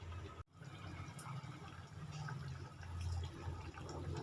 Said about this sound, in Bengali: ভালোভাবে ফুট ধরে গেছে